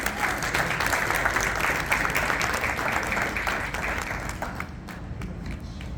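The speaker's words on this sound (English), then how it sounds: "A round of applause for Father Jude." A gathered crowd gives a round of applause for Father Jude at a program led by IPOB women. The clapping is loud and continuous at first, with individual claps audible, then thins out and softens over the last couple of seconds.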